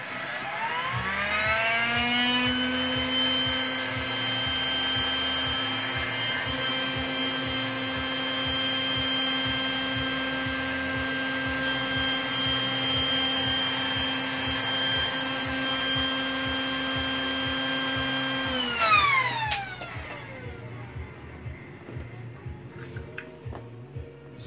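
Electric air pump droning steadily while inflating a thick vinyl inflatable, a loud tonal whine with a constant hum that runs for about nineteen seconds, then cuts off and leaves faint clicks and handling noise.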